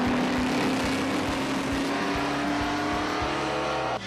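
Vintage Trans Am sports cars race hard on a historic circuit, engines roaring loud and near with rhythmic pulsing as they accelerate past, the sound continuous and filling the whole moment.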